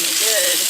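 Sausages sizzle and crackle in olive oil in a pan on an induction cooktop, a steady close frying hiss throughout, with a brief spoken comment over it.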